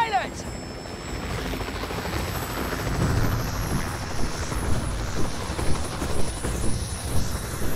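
Steady helicopter rotor thump and engine roar from inside the cabin, loud and continuous, with a voice speaking over the noise.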